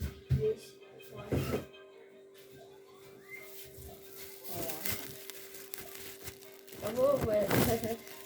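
A plastic bag crinkles in short bursts, with quieter rustling between them and a steady faint hum underneath.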